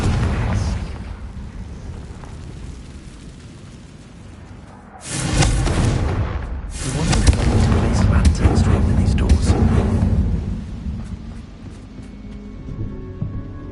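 In Hogwarts Legacy, the Confringo fire spell bursts into a loud, rumbling explosion that swells suddenly and roars on for several seconds, with speech in the clip.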